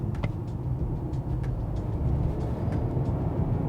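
A Mercedes-Benz E200 with a 2-litre turbo petrol engine and 9-speed automatic drives at a steady low rumble of engine and road noise, heard from inside the cabin with no voices.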